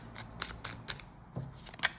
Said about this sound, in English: Don't you love when 50 million cards come out at once?